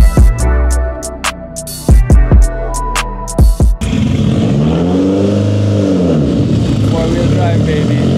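A Mitsubishi EVO 5 rally car with its hood off revs on a dyno, starting with a string of sharp, loud throttle blips and then settling into a sustained, sweeping high-rpm run. The sound is close and loud, with people talking nearby.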